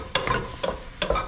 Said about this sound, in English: let's just add our onions right back in there. We'll give it a nice stir up, mix them up